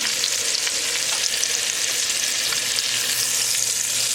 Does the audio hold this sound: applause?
no